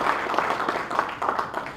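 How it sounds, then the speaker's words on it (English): Audience clapping at a 70th birthday celebration, a short steady burst of applause filling the room at moderate level. "Please give her a round of applause."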